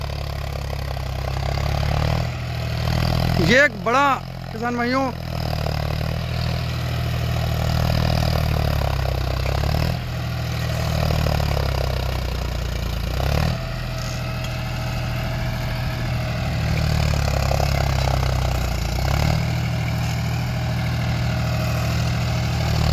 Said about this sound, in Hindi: हार्ड मिट्टी में बिना किसी कंट्रोलर के किसान भाइयों ट्रैक्टर चल रहे हैं।